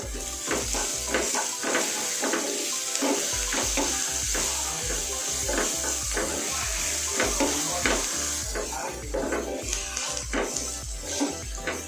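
Onion with ginger garlic paste frying in a pan, a steady loud sizzle with repeated stirring scrapes and clinks of a utensil against the pan throughout.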